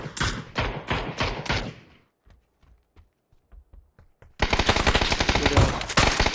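Automatic gunfire in a shooter video game, loud rapid bursts at the start, then a quiet stretch of sparse distant shots before another dense, sustained volley close up.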